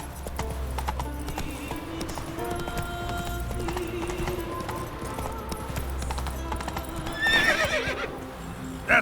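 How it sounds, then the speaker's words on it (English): Horse in The Witcher 3 video game, steady clip-clop of galloping hooves running throughout with a whinnying neigh near the end, set under game music and ambience. "Run, Roach."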